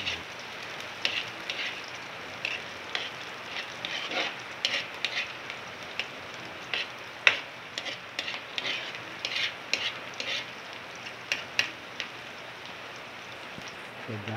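Liver fries in a pan with sautéed garlic and onion, giving a quiet, steady sizzle that carries scattered pops and light stirring clicks, close up, with no talking.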